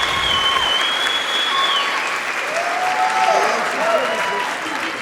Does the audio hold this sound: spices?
no